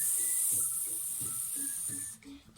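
A voice makes a long, steady S hiss imitating a deflating balloon, continuous and fairly loud for about two seconds before cutting off.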